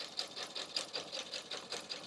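A sewing machine stitches the lining of a grocery bag, a steady fast rhythmic whirring chatter of the needle, close and fairly quiet, with no voices.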